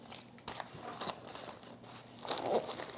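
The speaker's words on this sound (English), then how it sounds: "if this was mounted to like a backpack like that, you could grab this and it just rips open" A first aid pouch on a homestead emergency kit is ripped open by its pull tabs, giving quiet crinkly tearing and scratchy rasps, with a louder rip building toward the end.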